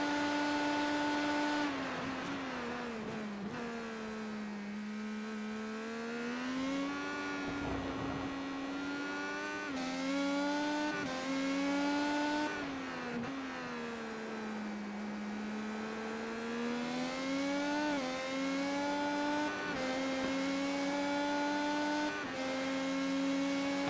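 Race cars from an IndyCar racing video game, heard as engines with a steady high whine that keeps rising and falling through gear changes. It runs continuous and loud for the whole stretch, with no talk over it.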